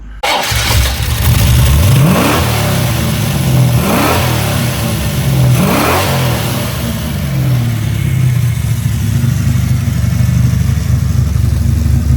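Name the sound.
Holden Commodore 383 stroker engine revving for a burnout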